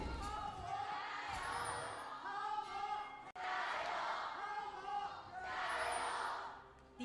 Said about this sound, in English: Crowd kicking it up here for game number 2 of this one